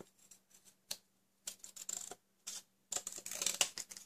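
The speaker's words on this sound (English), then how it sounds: "I'm going to trim that with my scissors" Several short, crisp snips and rustles of paper being cut, coming in irregular bursts with brief pauses between them, close by.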